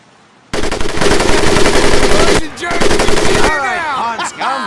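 A mounted machine gun in the Medal of Honor Pacific Assault game rattles off loud, dense bursts up close, with a short pause in the firing and a ringing tail after the last burst.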